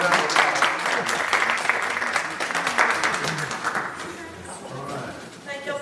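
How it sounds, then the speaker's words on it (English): A concert audience gives a warm round of applause, with dense clapping that is strongest at the start and thins out toward the end as a voice begins speaking over the fading claps. "Let's give everybody a round of applause."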